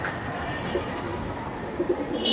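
Old Baga pigeons, a slim star-marked hen among Giribaz flying birds, coo softly and repeatedly at close range against a steady background hum.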